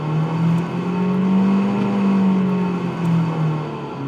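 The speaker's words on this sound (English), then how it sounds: "It might not be the best sounding engine in the world" Abarth 124 Spider with a 1.4-litre turbo engine drones steadily at close range, the revs rising and falling gently in a loud, buzzy tone with no talking.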